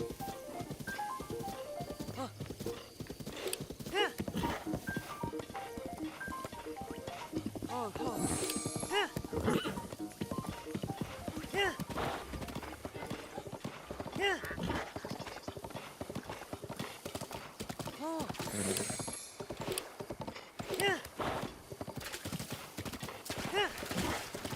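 Horse hooves clip-clop rhythmically in Zelda: Breath of the Wild on the Switch 2, with neighs and game music mixed in and a person talking over the galloping.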